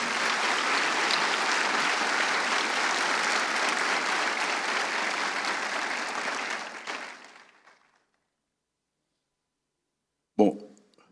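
Audience applause at an architecture conference, a dense sustained clapping that holds loud for several seconds, then thins and fades into silence before a brief sound at the end.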